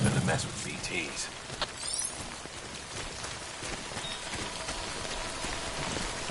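Steady rain in the video game Death Stranding, a dense, even hiss of falling water that holds at moderate loudness throughout with no clear gaps.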